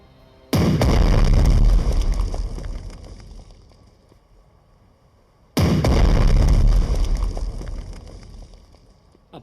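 Two heavy bomb explosions in the naval strategy game Strategic Mind: The Pacific, each a loud booming blast that rumbles and slowly fades, spaced about five seconds apart.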